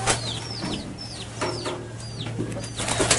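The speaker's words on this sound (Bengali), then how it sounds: "দেখেন এই আমার কবুতরগুলো" Pigeons kept in an enclosed rooftop coop alongside chickens, giving repeated short calls and cooing with a few soft wing flaps over a steady low electrical hum, close and moderately loud.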